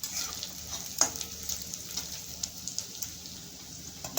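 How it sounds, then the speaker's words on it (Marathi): Onion sautéing in a pan makes a soft, even sizzle with a few light spatula taps and clicks scattered through it, fairly quiet and close. "आता चांगला कांदा परतून घ्यावा"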